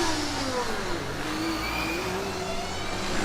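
A Formula Student race car engine revs and accelerates at an autocross event, its rising pitch sweeping upward, steady and fairly loud against a broad wash of background noise.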